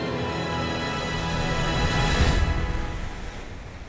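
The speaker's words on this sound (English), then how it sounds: "Windblown waves" Windblown ocean waves at a small port on Sweden's southeastern coast, a broad rushing wash that swells to a loud crest midway and then slowly recedes, with no talk.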